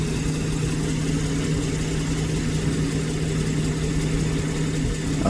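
A BMW X5 engine idles with a steady, low hum and a constant tonal drone, holding even throughout with no talk.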